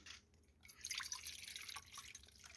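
Water poured out from dishes while washing them, a quiet splashing trickle and dripping that swells midway and keeps on in soft spurts to the end.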